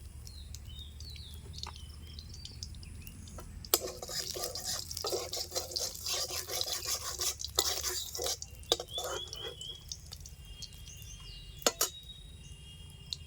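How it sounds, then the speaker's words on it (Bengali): Mustard oil is poured into a hot pan while bau fish cooks, setting off a crackling sizzle with scattered spits and pops that builds for several seconds and then fades to a quiet background hiss. "আবারও আমি দিয়ে দিচ্ছি একটুখানি সরষের তেল।"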